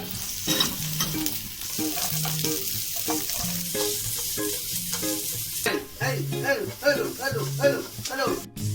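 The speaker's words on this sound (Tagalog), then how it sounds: "Gisa natin ng sibuyas at saka bawang." Onion and garlic sizzle loudly in a little cooking oil as they are stirred, with scraping utensil strokes over constant frying hiss, close up.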